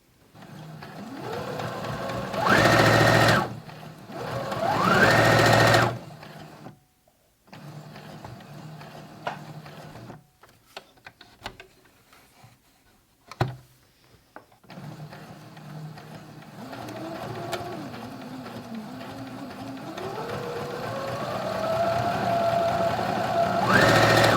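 A Brother CS10 sewing machine runs in several pedal-controlled bursts, loud whirring stitching that starts, stops, and speeds up, with quiet pauses and clicks between, ending in a long rising run.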